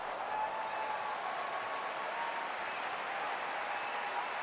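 The US Open tennis crowd applauds after a point, a steady, even wash of distant clapping from a large stadium audience that holds at a constant level throughout.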